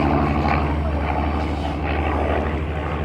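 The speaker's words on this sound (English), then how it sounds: "Here's the Spitty coming in low from the north." A Supermarine Spitfire flies low overhead at a classic and vintage car fun day in an English village: a loud, steady, deep propeller-engine drone that stays full and continuous throughout, with no voices over it.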